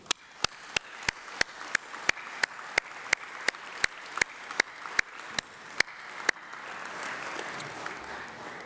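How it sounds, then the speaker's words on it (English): At a university graduation ceremony, a series of sharp, evenly spaced claps rings out close and loud, roughly fifteen in steady rhythm, before giving way to a softer, diffuse wash of crowd applause. "Please join me in a massive round of applause."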